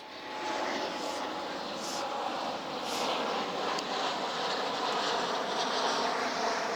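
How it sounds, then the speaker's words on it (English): A steady, broad roar of an aeroplane passing overhead, sustained throughout at moderate loudness with a few faint clicks. "Don't know why they've got so many aeroplanes going past this morning"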